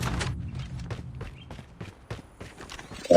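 Footsteps in the Call of Duty Mobile video game, a series of quick, irregular thuds and scuffs spread across the clip, moderately loud with no talking over them.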